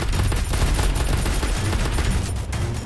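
Video game gunfire rattles in dense, rapid bursts, loud and continuous over a constant in-game background rumble.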